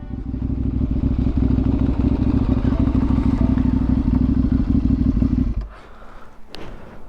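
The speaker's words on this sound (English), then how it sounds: "a little bit of green laning on the KTM" KTM motorcycle ridden along a green lane through Derbyshire countryside, a loud steady engine drone with clattering and thumps over rough ground for about five seconds, then cutting off to quieter rustling.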